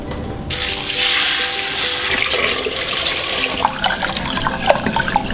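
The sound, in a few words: water being poured into aquaponics aquarium tank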